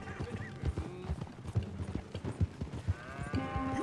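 Horse hooves clip-clop in a steady uneven rhythm at close range in the video game Red Dead Redemption 2, with faint mechanical creaks and rattles in the background.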